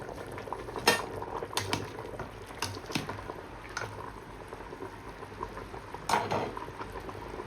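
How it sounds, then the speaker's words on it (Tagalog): Water bubbles at a steady boil in a pot, with occasional sharp clinks of metal utensils against the rim. "Kumukulo na siya mga ka-my-friend."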